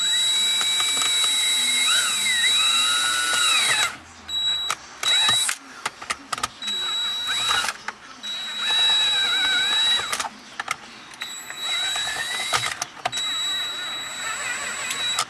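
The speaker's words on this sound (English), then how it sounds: "Start our drill." A power drill works at widening tab holes in a Ford center console, whining in several close bursts with the pitch sagging under load and brief pauses between runs.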